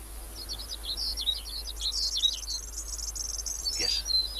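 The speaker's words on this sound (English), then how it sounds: "listen to that bird" A skylark sings bright, rapid chirping song in quick trilling phrases, fairly faint and continuous against a quiet outdoor background, with no talking.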